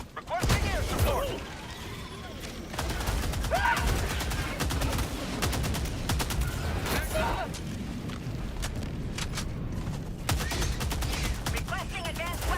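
Rapid gunfire from a weapon in Helldivers 2 on the hardest Helldive difficulty, dense bursts and volleys running almost continuously with crashing impacts and game voice lines mixed in.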